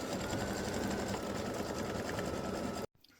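An embroidery machine stitches a design in a steady, dense mechanical buzz that runs unbroken for nearly three seconds and then stops abruptly, leaving near silence.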